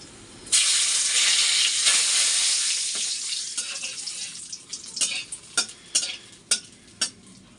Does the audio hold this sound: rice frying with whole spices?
yes